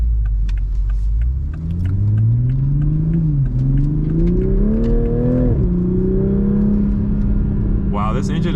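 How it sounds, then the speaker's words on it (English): A 2021 Toyota GR Supra 3.0 engine accelerates, its low drone climbing in pitch through the gears with a brief dip, heard loud from inside the cabin. "Wow, this engine is so eager to just get up and move."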